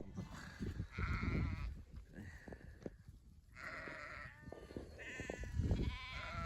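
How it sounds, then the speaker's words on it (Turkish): Sheep and lambs bleating in a flock, several overlapping calls close by, some loud and some fainter, in an outdoor pastoral setting. "Kuzularım güzel gelişiyor. Koyunlarım güzel gelişiyor."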